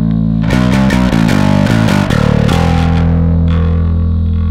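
Bass guitar run through a First Act distortion pedal blended with a TC Electronic Gravity compressor: a loud, gritty run of repeated plucked notes, then one held note that rings out and slowly fades, with no talking.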